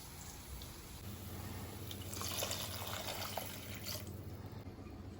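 Water pours and trickles into a pan of upma with semolina and vegetables in a home kitchen, a steady liquid splash that swells in the middle with a faint background hum.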